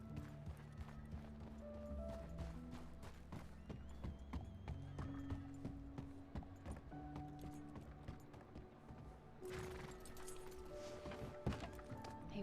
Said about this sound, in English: I'm gonna put my horse somewhere over here so that it's not seen